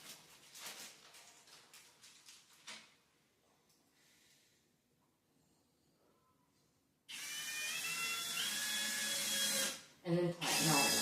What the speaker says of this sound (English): There's 3 screws to each corner, or to each stand. So put 3 in.